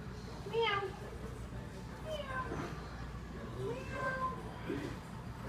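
A parrot imitates a cat, producing several distinct meows spread across the clip, close and clear, while children and adults talk around it.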